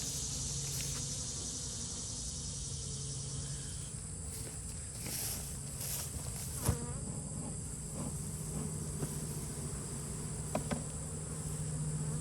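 Honey bees swarming around an open apiary hive as it is smoked, a steady loud buzzing drone filling the whole stretch with occasional close wingbeat swells and faint clicks of handling.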